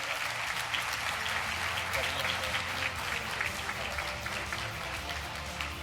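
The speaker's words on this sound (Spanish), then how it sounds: "Así que un fuerte aplauso para recibir, por favor, a Martín Redrado." An audience at a summit event claps to welcome a speaker, a dense, steady wash of applause filling the room throughout, with some speech under it.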